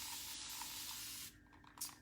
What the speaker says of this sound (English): I'm gonna spray some more water in my bowl.